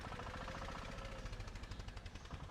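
A Ligier microcar's small petrol engine runs with a quiet, rattly, rapidly pulsing chug, like a lawnmower, nearby and alone without talk.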